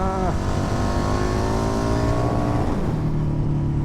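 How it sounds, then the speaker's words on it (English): Loud engine of a 2008 KTM RC8 sport motorcycle with LC8 V-twin revving up with rising pitch and strong harmonics, then dropping as it shifts and climbs again, continuous and close. "It just sounds so awesome."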